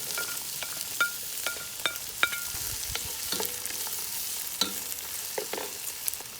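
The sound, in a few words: onion frying with garlic in a pan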